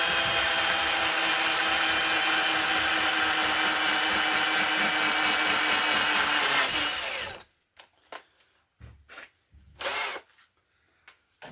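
A power drill bores an 8.5 mm bolt hole for a car repair, running as a steady, close whine for about seven seconds, then stopping, followed by a few brief bumps and handling sounds.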